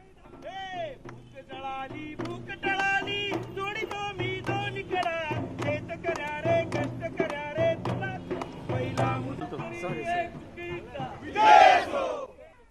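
Crowd of Congress party workers in Maharashtra celebrating the repeal of the three farm laws, with rhythmic chanted slogans and cheering voices close by, rising to a loud shout near the end.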